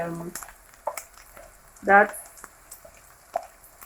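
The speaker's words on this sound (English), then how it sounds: "it's beginning to brown a little on edges" Fried rice sizzles in a pan with a soft, steady frying hiss, broken by a few brief stirring or scraping bursts close by, and speech can be heard over it.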